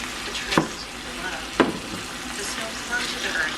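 Food fries in a pan during dinner preparation, a steady soft sizzle with two sharp utensil knocks against the pan.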